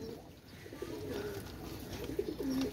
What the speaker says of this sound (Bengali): গলায় লাল কবুতর দেখেন ভিউয়ার্স, অরিজিনাল কবুতর দেখেন, গলায় লাল কবুতর